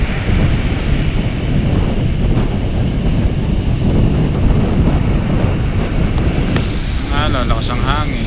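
Strong wind roars at sea, with waves and surf rushing continuously as boats launch into large swells. The sound is loud, dense and unbroken. Microphone buffeting dominates, and faint bits of voices can be heard in the background.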